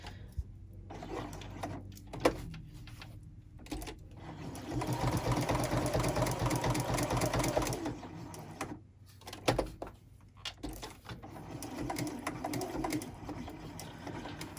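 A sewing machine sews a fabric chain garland in several runs of varying length, some slower, separated by short pauses and small handling knocks, close and steady, without speech.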